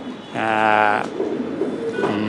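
Racer pigeons cooing nearby, a loud drawn-out throaty coo followed by a shorter one, with light background rustle.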